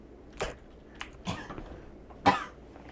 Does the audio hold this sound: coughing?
yes